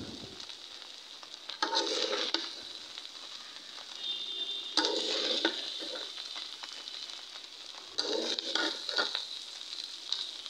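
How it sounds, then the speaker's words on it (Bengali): A vegetable filling for meat pitha is stir-fried in a pan, with a soft ongoing sizzle broken by three loud bursts of spatula scraping and tossing at roughly regular intervals. "এই যে দেখেন, এই ভাজিটা না যত ভাজা ভাজা হবে তত পিঠাটা খেতে"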